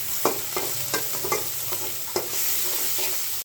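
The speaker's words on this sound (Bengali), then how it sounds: "এখন চিংড়াটা একটু ভাজি করে নিব" Small shrimp frying in oil with green chilli in a home kitchen pan, giving a steady close sizzle broken by several sharp spatula clinks and scrapes as the pan is stirred.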